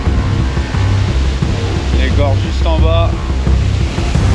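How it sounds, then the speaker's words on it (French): A small waterfall in a gorge on the Tour du Mont Blanc gives a constant loud roar of falling water, with someone talking briefly over it. "la petite cascade"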